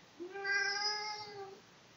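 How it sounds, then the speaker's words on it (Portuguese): A domestic cat gives a single clear, drawn-out meow lasting over a second, close by in a quiet indoor room. "É o meu gato."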